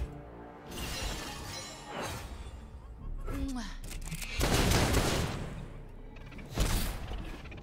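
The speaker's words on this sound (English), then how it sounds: "Guns blazing." Gunfire in the Legends of Runeterra card game: bursts of shattering, crackling shots in several loud volleys with brief gaps between, mixed with game effects and a voice speaking.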